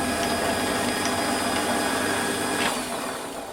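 A Warco lathe turns a chamfer on a part, giving a steady close motor whine with faint cutting scrapes and a few light ticks, easing slightly toward the end.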